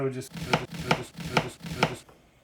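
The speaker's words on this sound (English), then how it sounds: "I'd cut that into like some squares like that" A knife chops a vegetable into squares on a cutting board in five even, sharp, close thuds, followed by quiet.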